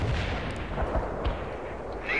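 Mortar rounds firing in the war strategy game World in Conflict, dull low thuds repeating over a dense, steady battlefield rumble with no talk.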